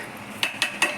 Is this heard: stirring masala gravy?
yes